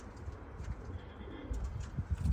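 A tumbler pigeon coos softly amid a steady background rumble and rustling, low and somewhat muffled.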